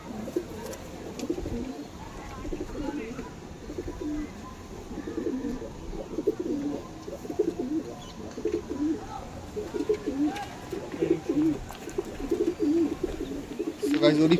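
Pigeons at a pigeon show and sale in Howrah coo in low, throaty, repeated rolls, several birds overlapping continuously under a faint background hum.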